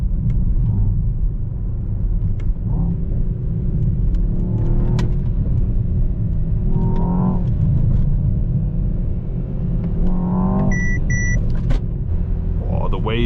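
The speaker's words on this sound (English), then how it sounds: "Let me just downshift it." A Mercedes S63 AMG E-Performance, an 802 hp V8 hybrid, downshifts from inside the cabin, its steady low engine drone swelling into several rising rev blips as gears drop.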